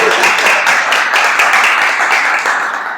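A crowd applauding at a literary book launch, continuous dense clapping at steady loudness, tapering slightly toward the end.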